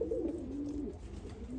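Fal posta pigeons coo in a low, rolling run, one bird calling close and steady for over a second against a soft background hum.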